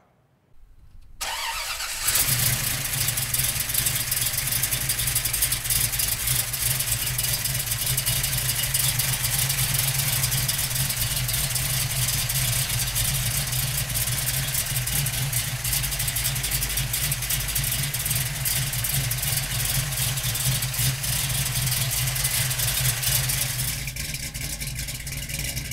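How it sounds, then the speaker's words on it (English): A 1969 Chevrolet Camaro big-block V8 cranks over briefly and catches, then settles into a loud, steady, rumbling idle that runs close by for the rest of the time, with no voices. "let's fire this big block up"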